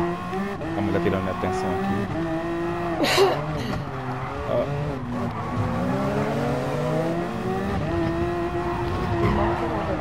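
Race car in Gran Turismo Sport with a revving engine, shifting pitch and tire squeal through corners, continuous and close, while someone talks over it.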